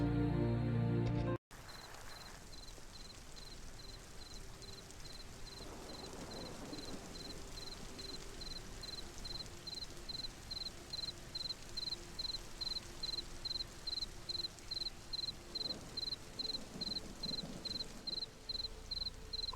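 Steady rain pours over the Egypt level of a Tomb Raider custom level, a continuous hiss running throughout after a brief silent gap at the start, with a faint, regular high chirp pulsing over it.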